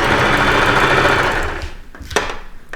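Sewing machine stitching a knit T-shirt neckline, a loud fast continuous whirring hum that stops after about a second and a half, followed by a few small clicks and handling knocks.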